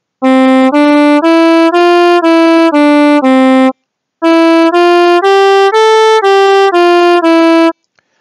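Synthesized brassy tones with rich overtones play a fourteen-note melody in two phrases, each note evenly spaced, sounding somewhat like a trumpet.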